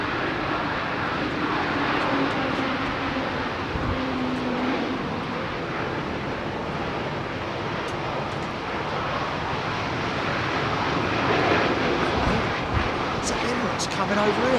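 Airbus A350 jet turning onto the runway at a windy Heathrow, a steady broadband engine roar heard from a distance, with wind noise throughout and voices talking over it.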